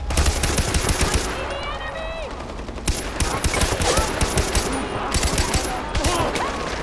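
Soldiers in the video game Far Cry 4 fire continuous, loud automatic gunfire in rapid bursts, with voices shouting over it.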